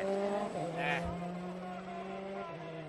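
A rally car engine drones steadily through a corner on the 2014 Jänner Rallye, a steady mid-distance roar with a brief rising whine partway through, heard without talk.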